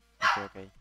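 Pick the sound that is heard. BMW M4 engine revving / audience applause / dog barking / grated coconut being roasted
dog barking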